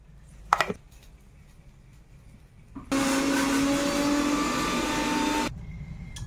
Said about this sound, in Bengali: আদা রসুনটা বেটে নিয়ে আসি।